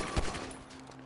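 A gunshot bursts out near the start of a shootout in the GTA 5 video game, one loud crack followed by a brief ringing tail over a steady background hum.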